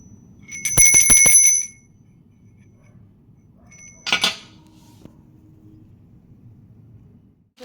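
A new-design bell bought during Dhanteras shopping is rung, giving a bright, sharp metallic ringing burst lasting about a second, followed later by a shorter single ring, close and clear against a quiet room.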